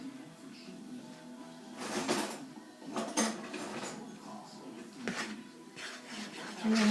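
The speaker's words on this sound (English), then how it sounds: "now we're going to go ahead and I'm going to stir that up" Dough ingredients being stirred in a bowl, giving soft scraping and knocking strokes at an irregular pace, fairly quiet, with a few louder clatters against the bowl.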